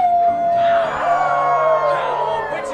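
Audience at a Legoland California interactive Halloween monster show howling like wolves together, a loud rising and falling chorus of voices imitating a wolf howl, close and sustained.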